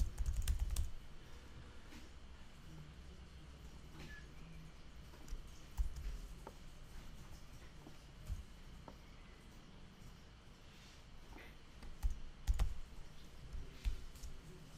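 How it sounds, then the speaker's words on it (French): Quiet clicking of keys as someone types on a computer keyboard at a desk, in short uneven bursts with pauses, heard close but faint in a calm room. "si je mets mon clavier bien en face de moi, ça ira mieux, je crois"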